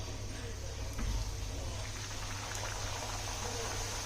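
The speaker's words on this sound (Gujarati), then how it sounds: "તેલ ફૂલ ગરમ થઈ જાય પછી આપણે એમાં પકવાનને એડ કરી દેવાનું છે" Dal pakvan, flat fried dough crisps, frying in a pan of fully heated oil: a steady, close hiss of bubbling oil over a low background hum, with a slightly louder burst about a second in.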